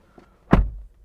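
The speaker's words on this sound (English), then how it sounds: "Door open and close sound from the outside" A 2023 Honda CR-V car door shuts once from inside the cabin, a single close, solid thunk after a faint click, with no talking.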